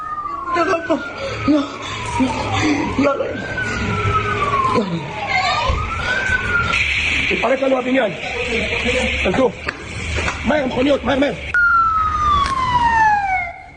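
Fire brigade vehicles arrive with wailing sirens at a scene of destruction in an Israeli city after an attack, several rising and falling sweeps overlapping loudly throughout, mixed with street noise and voices.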